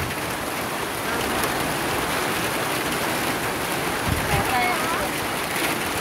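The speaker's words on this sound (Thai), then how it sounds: "เบิ่งพุ่นน้ำฝนสะลงมา" Heavy rain pours down in a constant, dense hiss over a countryside home, close and loud, with faint voices briefly audible beneath it.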